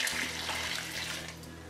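Hot water poured from a large 40-litre stockpot over vegetable scraps to make broth, a steady, close, continuous rushing pour with no voices.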